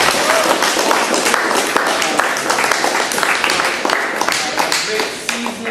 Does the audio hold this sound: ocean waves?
no